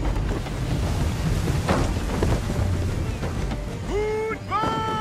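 Strong crosswind gust buffeting a sailing ship in Assassin's Creed III, a continuous blustery wind roar with creaking and sea noise, followed by a few rising whistle-like tones near the end.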